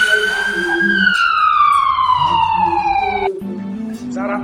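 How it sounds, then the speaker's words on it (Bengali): An ambulance siren wails with a long sliding tone and rising harmonics, loud and close, over a steady traffic rumble, cutting off briefly near the end before resuming. "আমি এখন বাড়ি ঢুকবো অ্যাম্বুলেন্সে করে।"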